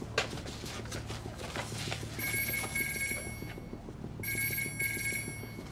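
A telephone rings in two long bursts of bright, steady bell tones, a short pause between them, over a quiet background of soft rhythmic clopping.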